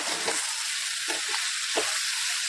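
Spicy Maharashtrian okra (bhindi) with finely chopped coriander being stirred in a pan, giving a steady soft sizzle with a few brief scraping strokes of the spoon, close by and alone.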